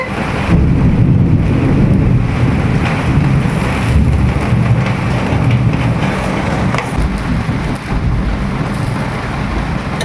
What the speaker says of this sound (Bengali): ভীষণ বৃষ্টি হচ্ছে, বাজ পড়ছে।